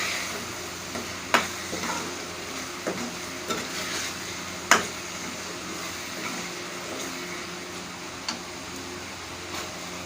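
Boiled chickpeas being stirred into a masala in a pan, a steady low sizzle under scattered scraping clicks of a spoon at close range, with a sharper knock of the utensil on the pan around the midpoint.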